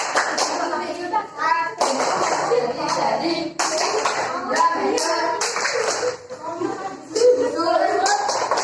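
Classroom of children clapping a rhythmic chant about the parts of a circle, steady patterned hand claps mixed with young voices chanting, loud and close throughout.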